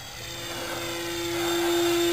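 The electric motor of a Nitroplanes 800mm Corsair RC plane spools up for takeoff, a steady high-pitched whine rising in loudness and pitch, close and alone.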